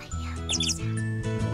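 Chirping of a cartoon bird in the children's game Sago Mini World, a few bright high calls over steady background game music.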